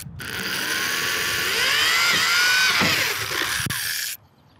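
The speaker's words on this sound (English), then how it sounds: "we're bringing out the drill again. This is, again, the 1/4-inch bit, and we're just gonna drill out this last hole" A power drill with a 1/4-inch bit whirs steadily for about four seconds while drilling a hole for a roof rack install, its pitch wavering and rising under load, then cuts off abruptly.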